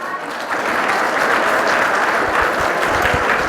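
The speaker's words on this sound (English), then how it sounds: "give Christina's husband, Brian, a big round of applause" Audience at a seniors day expo breaks into a loud, sustained round of applause, dense steady clapping from a crowd filling the hall.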